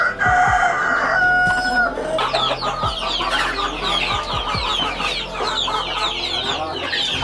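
A KUB chicken rooster crows loudly at the start while hens cluck busily throughout, a dense, close farmyard chorus with no talking.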